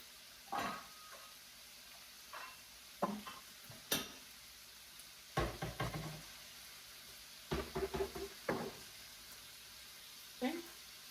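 A stir fry sizzles and is stirred in a hot pan, heard as scattered scraping and clattering bursts over a quiet frying hiss, with a voice speaking in between.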